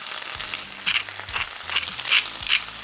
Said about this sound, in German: gebe den Spinat da rein, würze ihn ein wenig und gebe Olivenöl dazu